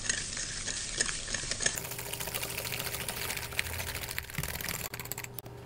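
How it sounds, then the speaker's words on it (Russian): A whisk beats egg, sugar and a pinch of salt into a foam for kefir pancake batter, making a steady, rapid scraping and swishing that runs continuously at close range with no talk. "И взбиваем до появления пены."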